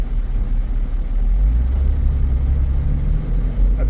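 A car engine on a vehicle with a no-power fault and no codes, revving up as fuel is added, a close, loud low rumble that swells and holds steady, with no voices.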